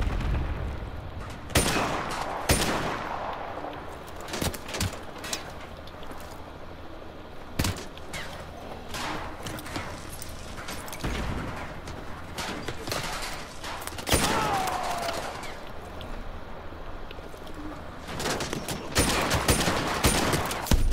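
Dense gunfire in the Call of Duty Modern Warfare 2 remastered campaign on veteran difficulty, loud overlapping shots and bursts with booming impacts, continuous through the stretch.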